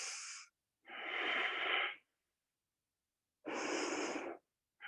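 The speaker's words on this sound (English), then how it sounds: "Let's take 2 more breaths here." Slow, deep breaths drawn in and let out during a yoga back bend, each inhale and exhale a long airy rush with clear pauses between them, close and fairly loud with no talking.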